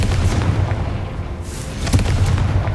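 A fiery Confringo blast from Hogwarts Legacy lands as a dense, booming burst of explosive noise, with a sharper crack near the end, loud and continuous for a few seconds.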